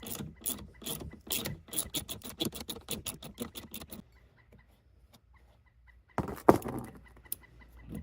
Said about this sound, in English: Next, we're going to loosen up the rear of the leaf spring. This is 9/16. It's a nut and a bolt.